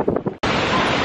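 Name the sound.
strong wind at Shifen Waterfall bridge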